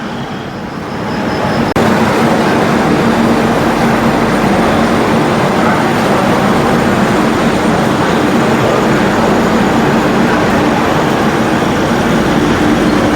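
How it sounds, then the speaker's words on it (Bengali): A Humsafar Express train running on the line from Sealdah toward Jalpaiguri, a loud, continuous wash of rumble and wheel noise that swells up within the first second and holds steady throughout. "আমাদের ট্রেন এখন এসে পৌঁছেছে কৃষ্ণনগর সিটি জংশনে"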